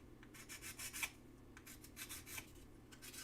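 Narrow sandpaper strips rubbing back and forth in short repeated strokes, a faint, close rasping with a steady rhythm and no talk.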